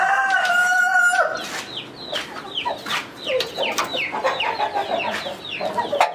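An Aseel rooster, a Thai cross, gives a short crow close by, then turns to a run of rapid, repeated clucks and calls from other fowl on a farm.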